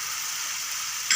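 Masala of softened tomatoes and green chillies frying in ghee, a steady close hiss of sizzling with a slight rise in the final moment, no voices.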